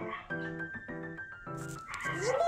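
Neighborhood dogs bark and yelp in about four repeated, tonal bursts at moderate distance, with a rising whine-like tone toward the end.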